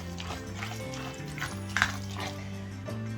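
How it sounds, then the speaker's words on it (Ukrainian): Soft wet stirring and scraping of minced turkey fillet mixed with an egg in a bowl, with light clinks of a utensil against the side, quiet and close. "Далі додаю одне яйце і все ретельно перемішую."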